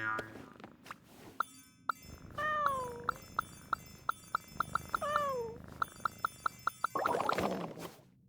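Video game cat in Genshin Impact lets out a couple of clear, drawn-out meows among bright chiming tones and soft game sounds, close and fairly loud, with a louder burst of noise near the end.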